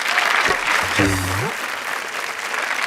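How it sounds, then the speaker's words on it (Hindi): Audience applause at a Hindi poetry and comedy stage show, a steady wash of clapping throughout with a brief voice rising over it near the start. "एक बार जोरदार तालियां।"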